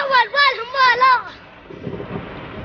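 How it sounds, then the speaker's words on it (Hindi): Thunder from a lightning strike cracks and rumbles through heavy rain, wind and storm, a loud rolling burst that fades into low rumbling and rain noise. "अचानक बड़ी तेज की लाइटनिंग स्ट्राइक हुई"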